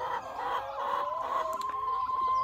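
Hens at an ordinary farm with a few birds roaming outdoors, clucking and calling steadily and fairly close, with a drawn-out tonal call running through the middle and end.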